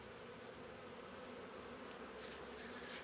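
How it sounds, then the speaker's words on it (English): Honey bees hum steadily inside a hive during a spring check of a colony stocked with sugar, a dense continuous buzz at low volume with no speech. "Lots of sugar, lots of bees."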